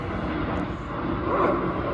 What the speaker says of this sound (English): Ooh, airplane, it's loud.